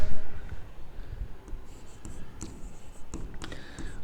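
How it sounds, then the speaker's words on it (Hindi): Pen scratching across paper while writing out an explanation to a reasoning question, with steady close scraping strokes and short pauses between words, no talking. "अब यहां पे इसकी थोड़ी सी व्याख्या लिख लेते हैं।"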